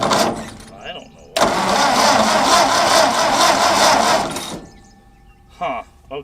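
An old abandoned tractor's engine cranks and catches, running roughly at a loud, steady level for about three seconds before dying away, with brief sputters and people talking around it.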